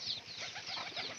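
Local pigeons at a feeding spot coo softly in repeated throaty pulses, faint and near, with rustling in the background.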